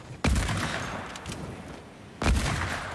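Two loud, booming hunting rifle shots in the Fortnite video game, about two seconds apart, each with a long rolling echo trailing off afterward.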